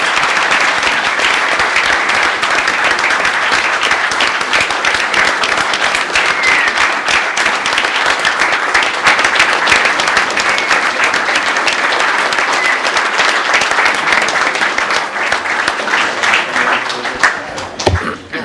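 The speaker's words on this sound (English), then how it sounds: "let's go ahead and give another round of applause for our first responders here tonight" Sustained, loud applause from a crowd honouring first responders at an evening municipal workshop meeting, dense and steady for the full length before tapering slightly at the end.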